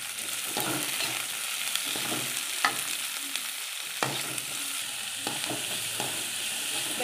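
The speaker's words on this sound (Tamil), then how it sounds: "வெங்காயத்தை கொஞ்சம் லைட்டாக சிவந்து வர வரைக்கும் கொஞ்சம் வதக்கிக்கிட்டே இருப்போம்." Onions sauté in a pan for potato masala, a constant loud sizzle of frying with a few light scrapes and taps of the stirring spoon.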